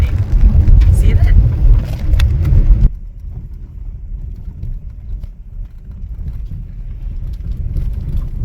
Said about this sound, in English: Well, I'm just driving around.